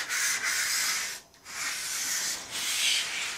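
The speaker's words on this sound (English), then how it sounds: "I'm not really doing a lot of sanding on this." Light hand sanding over a silk-covered balsa model aircraft gives soft, close rasping strokes in a steady back-and-forth rhythm, with a brief pause between passes.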